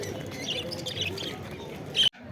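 Caged birds at a bird market, including budgerigars, giving faint scattered chirps amid a busy outdoor murmur before the sound cuts off abruptly near the end.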